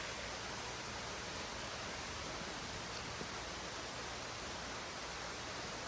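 Woodland Falls Trail waterfall in Los Padres National Forest, running strong after rain and snow, heard as a steady, faint wash of rushing water with no breaks or voices.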